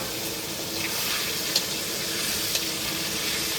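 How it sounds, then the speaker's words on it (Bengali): Potatoes frying in a pan in a kitchen beside a pond, a steady close hiss and sizzle running through the whole stretch with a couple of faint clicks and no talk. "এবার আলুটা ভেজে নেব।"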